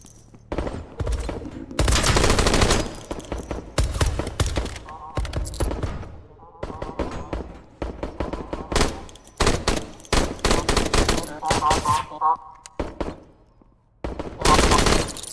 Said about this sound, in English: I'm literally just here shooting things.